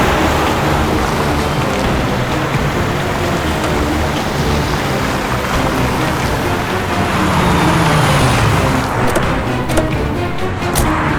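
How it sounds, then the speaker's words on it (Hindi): A golden car drives past during a crime-drama chase, a steady, loud broadband rumble of engine and road noise that lasts throughout with no voices. "सर वो देखिए सुनहरी गाड़ी।"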